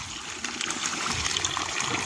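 Water gushing and splashing steadily from a hose connected to a water pump for watering vegetables, a close, continuous rushing flow.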